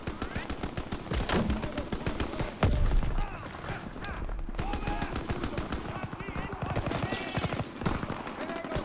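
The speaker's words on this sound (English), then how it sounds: "Gunfire this way! Too risky!" Rapid gunfire from the Call of Duty WWII video game, with dense bursts of shots and machine-gun rattle continuing throughout amid battle noise and voices.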